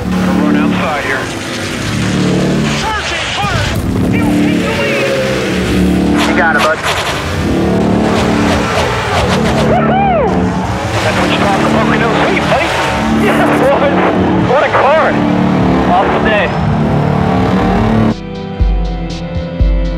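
Race cars roar past on an oval track during a green-flag restart from double-file formation, engines loud and continuous under a race announcer's commentary, ending with a short burst of different mechanical sound.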